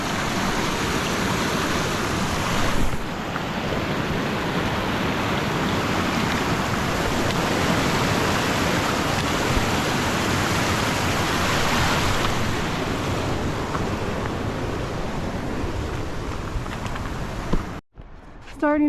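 A stream rushes over rocks at a trail water crossing on the Pacific Crest Trail near Muir Pass, a loud, continuous broadband roar that cuts off abruptly near the end.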